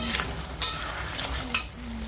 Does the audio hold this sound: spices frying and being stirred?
yes